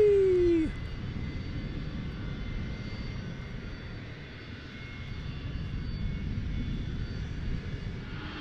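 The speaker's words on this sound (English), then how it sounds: "You can hear those engines roar." Jet airliner climbing out after takeoff at DFW airport, a loud steady roar of engines that fills the whole stretch with a broad, sustained rumble.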